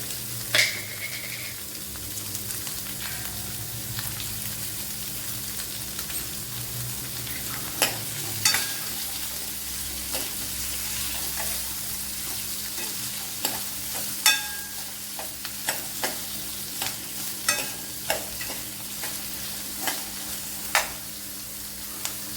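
Sliced onions with salt sauté in a pan for a brinjal dish, a constant low sizzle with a steady hum beneath it and scattered spoon scrapes and taps that grow more frequent toward the end.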